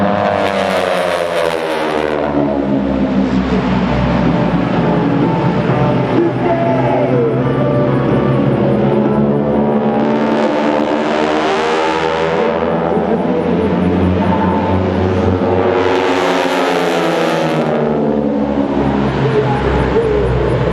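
North American Texan trainer aircraft of the AeroShell Aerobatic Team, flying an airshow routine, give a loud, continuous radial-engine drone that swells and fades as the planes pass and turn, heard alone with no talk.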